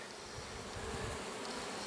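Dense, steady buzzing of many honeybees, close and continuous, with a low hum of wings filling the whole clip.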